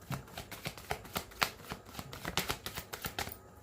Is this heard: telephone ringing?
no